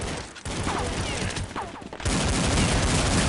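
Rapid pistol fire from Counter-Strike 1.6 in a pistols-only match on the untitled map, a dense burst of close shots with a brief lull and then a sustained loud volley.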